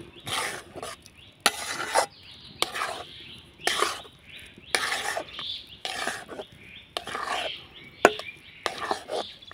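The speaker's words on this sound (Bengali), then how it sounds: "এবার মিডিয়াম আঁচে করে সুজিটাকে নাড়াচাড়া করে একটা দইয়ের পরিণত করে নেব।" Semolina dough is stirred in a wok over medium heat, giving repeated bursts of scraping and knocking in an uneven rhythm, close and fairly loud with quiet gaps between strokes.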